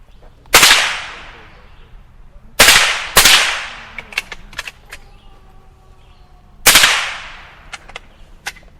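Gunfire from target-shooting rounds: four sharp, loud shots in an irregular pattern, each with a ringing echoing tail, plus faint clicks and ringing between them and no talking.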